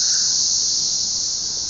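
A dense swarm of cicadas in Nashville in 2011 produces a loud, unbroken, high-pitched buzzing drone, very close and steady throughout.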